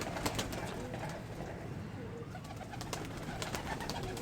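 Pigeons coo and flutter close by as they come down to feed on grain, soft repeated calls over a steady busy outdoor background, with no clear talk.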